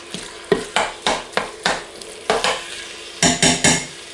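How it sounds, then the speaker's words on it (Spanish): Minced meat fries in a pan with bacon, heard as a sizzling bed under repeated scraping stirs of a utensil, loud and close in irregular bursts, with no speech. "ahí lo vamos a tener hasta que la carne esté bien deshecha y que nos cambie el color"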